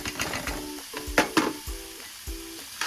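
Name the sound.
onions frying in a pan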